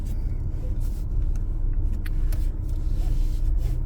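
Steady road rumble from inside a moving rideshare car, a continuous low engine and tire drone with no pauses.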